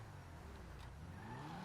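A Toyota MK5 Supra's engine revs in GTA V during double-clutch shifts, a steady, fairly quiet drone with rising and falling pitch that continues for the whole stretch with no talk over it.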